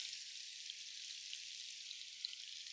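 Chicken pieces sizzle and fry in olive oil in a skillet, a steady bright hiss with faint crackles throughout and no talking.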